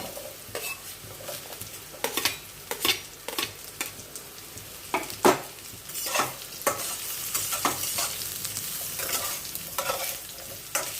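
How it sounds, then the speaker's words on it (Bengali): Mushrooms fry in a pan with a continuous close sizzle. A spatula stirs them in repeated scraping strokes, some louder than others, and no one speaks. "এরপর আমি মাশরুমগুলোকে ভেজে নেব।"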